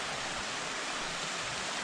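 Water rushes steadily over a creek crossing, a dense, even wash of sound close by with no breaks or voices.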